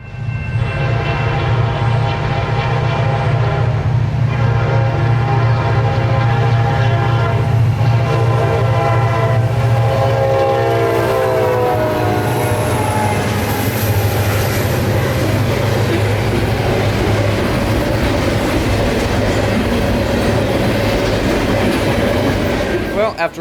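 A freight train with reefer cars and EMD locomotives passes at night in Central Florida, its loud, sustained horn blaring over the heavy rumble and clatter of the cars before the horn fades into continuous rolling wheel noise.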